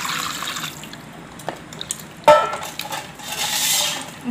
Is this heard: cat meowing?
no